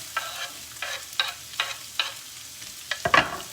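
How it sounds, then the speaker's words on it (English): Big chunks of onion go into a hot pan with fragrant ginger and are stirred, bringing a soft sizzle broken by several sharp scraping strokes at a steady pace, with no voices. "Now I'm going to add the onion pieces."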